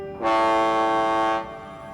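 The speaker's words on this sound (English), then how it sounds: "now it was time for him to blow his whistle, like he always did" A cartoon tugboat sounds one long, loud steam whistle, a bright tonal blast that holds steady for about a second before cutting off and leaving a brief echo.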